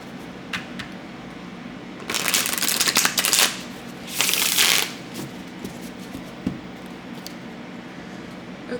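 A deck of slightly sticky tarot cards being shuffled close up in two bursts of rapid riffling flutter, with quieter handling taps and clicks between them.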